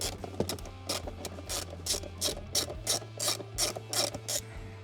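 Ratchet loosening a 10 mm bolt while replacing the eCall battery on a 2023 Hyundai Ioniq 5 Long Range Premium, a rapid series of about a dozen close clicking strokes in even rhythm over a low hum.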